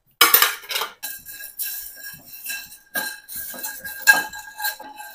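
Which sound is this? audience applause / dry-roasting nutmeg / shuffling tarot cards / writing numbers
dry-roasting nutmeg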